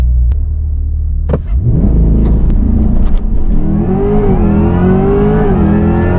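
A Corvette E-Ray launches hard on a track, its engine rumbling loud and close, then rising in a steady accelerating roar through several seconds with no speech over it.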